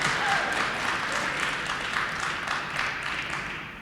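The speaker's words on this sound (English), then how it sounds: "there's going to be a lot of clapping if I go through every stat that she has." Audience clapping at a 2021 Hall of Fame induction ceremony honoring basketball player Shareta Brown, a steady wash of applause from a large crowd throughout, moderately loud and sustained.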